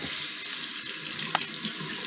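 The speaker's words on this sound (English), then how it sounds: "we're going to turn on the water" Water runs from a sink tap in a steady, close splashing stream, with one small knock partway through.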